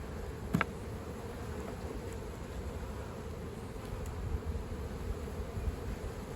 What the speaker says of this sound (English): So many more bees.